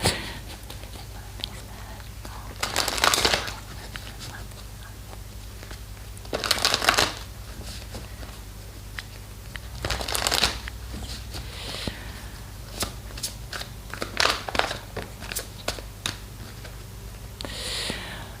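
Belline oracle cards shuffled by hand, heard as several short, close bursts of riffling and card slaps spaced a few seconds apart, with quiet handling noise in between.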